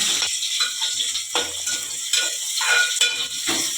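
Onions and green chillies frying in a pan, stirred with a utensil in irregular scraping strokes over a steady close sizzle, with no voices.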